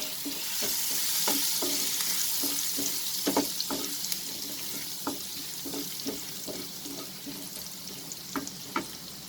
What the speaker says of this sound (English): will saute it till it becomes slightly golden in color.